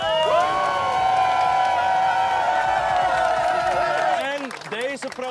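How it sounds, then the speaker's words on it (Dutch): Crowd at an outdoor Pride protest in a village breaks into sustained applause, cheering and whoops, loud and continuous before tapering off, with scattered voices calling out above the clapping. "Een groot applaus voor Axel!"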